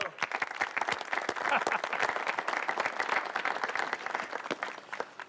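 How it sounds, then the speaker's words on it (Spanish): Applause from a group at a business gathering in a Latin American drama scene, brisk individual claps distinct and close, with murmuring voices underneath. "¡Aplausos!"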